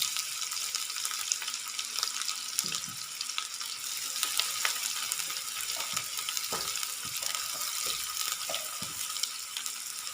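Two large, roughly chopped onions fry in a pan, giving a steady, even hiss with occasional small pops and faint clicks throughout.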